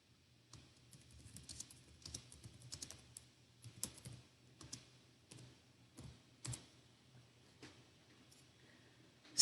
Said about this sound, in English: I'm just typing out a message here to all of you.